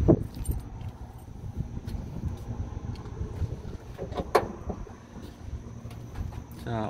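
A 1963 Pontiac Star Chief with a 389 V8 and automatic transmission cranks and catches, then settles into a steady, loud low rumble that runs throughout, with a few light metallic jingles over it.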